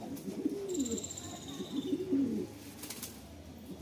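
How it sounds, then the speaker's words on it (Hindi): A red spotted Rampuri pigeon coos close by, two low rolling coos in quick succession, with faint background chatter. "ये लाल छापदार रामपुरी कबूतर है"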